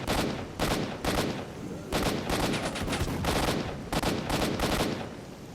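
Bursts of automatic gunfire from zombie enemies in the Wild Territory of S.T.A.L.K.E.R.: Shadow of Chernobyl, loud and close, firing in several sustained volleys separated by short pauses.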